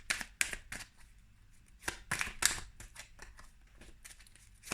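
Tarot cards are being drawn and laid out: a series of crisp papery flicks and slaps, some in quick pairs, close and fairly soft with quiet gaps between them.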